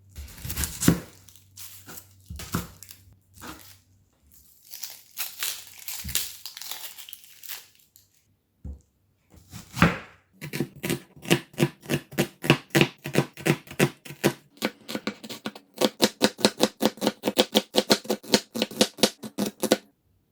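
A knife slicing food on a board for a child's packed lunch, first irregular crunchy cuts, then a long fast run of evenly spaced sharp chopping taps, close and crisp.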